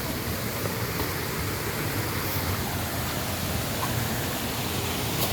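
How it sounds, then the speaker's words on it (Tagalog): A rocky jungle waterfall, the first of a chain of thirteen falls, roars in a constant, dense rush of broadband water noise, loud and unbroken with no talking. "Yan, unang falls."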